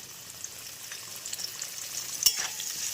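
Onion frying with potatoes in a pan for a vegetarian curry, a steady close sizzle with light stirring scrapes and a sharper clatter near the end, no voices.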